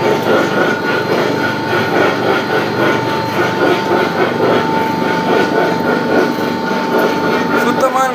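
A wooden oil press mill grinds sesame and coconut with a continuous, dense mechanical rumble and droning whir, steady and close, with faint voices under it.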